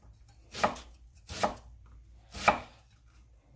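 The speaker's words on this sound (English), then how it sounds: "we'll slice it up quite fine because you don't want to be eating all the chunky cabbage in the soup" A knife finely slicing cabbage for a tomato and cabbage minestrone, heard as three crisp, close chops about a second apart against a quiet background, with no talking.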